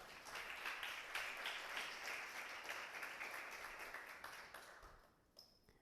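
A church congregation claps during a Spanish-language sermon, dense steady applause that fades toward the end and stops, leaving a brief quiet tail.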